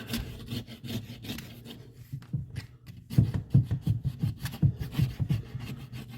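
Blade scraping caked residue inside a digital electric smoker, a series of short rough rasping strokes in an uneven rhythm, close and fairly quiet.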